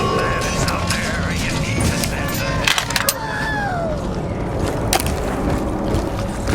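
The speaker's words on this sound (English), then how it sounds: "listen to the pack-a-punch sound when you do it" The Pack-a-Punch machine in Black Ops Zombies churns with dense mechanical whirring, ratcheting gear clicks and a few sharp clanks, loud and continuous over a noisy game soundscape.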